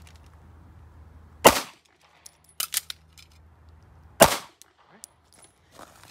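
Two loud, sharp pistol shots about three seconds apart during a Dot Torture drill at 5 yards, with softer clicks and handling noises in between; no talking.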